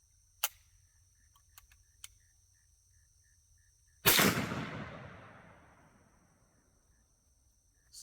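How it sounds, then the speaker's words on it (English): Two .357 Magnum rounds fired from an 1892 lever-action rifle: a small sharp crack early on, then a loud blast with a long decaying echo, separated by quiet clicks. "Let's try 2 shots in the 1892"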